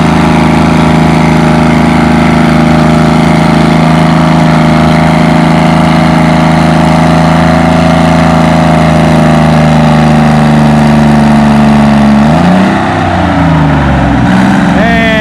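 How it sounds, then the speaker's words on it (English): An Oliver Super 99 tractor with a Detroit diesel engine pulls a sled at a tractor pull, roaring loudly and steadily nearby and gradually winding up in pitch, then faltering and dropping near the end. "We have an Oliver Super 99 with the Detroit. He's starting to wind up a little bit."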